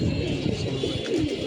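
Young pigeons coo softly in low, throaty murmurs over steady wind noise outdoors near a rooftop loft, a continuous close burble with no speech.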